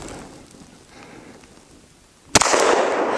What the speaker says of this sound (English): Now let's go with Chook's Glock 20 here.